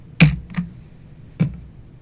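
Three distinct, close keystrokes on a computer keyboard, spaced irregularly with quiet gaps between them and no other sound.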